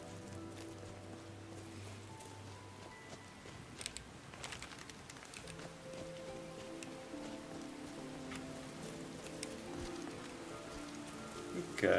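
Steady rain patters in a fantasy role-playing video game, a continuous soft hiss that runs under tonal game music throughout, with faint clicky ticks scattered through it.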